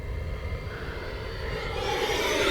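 A radio-controlled model jet airplane makes a steady broadband whoosh and engine roar, flying in low and growing gradually louder over a couple of seconds, with no voices.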